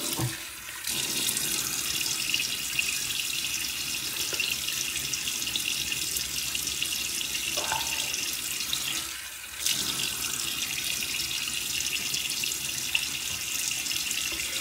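A bathroom tap runs steadily into a sink as water is splashed on the face before a shave, a close, continuous hiss broken by two brief pauses near the start and middle.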